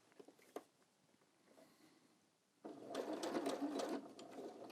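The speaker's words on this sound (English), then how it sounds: "That's the lock stitch." A sewing machine runs a lock stitch in a short, steady burst of rapid mechanical whirring after a few seconds of quiet handling clicks, recorded close up at a street sewing demonstration.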